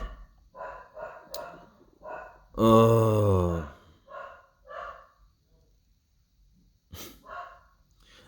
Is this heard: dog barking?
yes